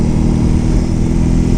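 A BMW R 18 Bagger motorcycle's big boxer engine rumbles loud and close while riding below 3000 rpm, a deep, throbbing, even drone with no speech.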